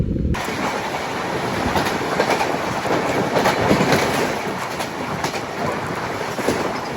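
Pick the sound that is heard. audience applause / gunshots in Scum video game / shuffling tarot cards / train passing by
train passing by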